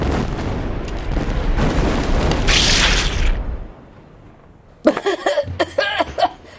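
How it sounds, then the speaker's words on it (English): A LEGO City rocket blast-off effect erupts as a loud, sustained rushing roar lasting about three seconds, then cuts out; after a brief pause, voices talk and laugh. "3, 2, 1. blast off!"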